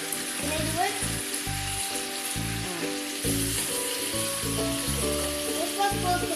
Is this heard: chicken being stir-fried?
yes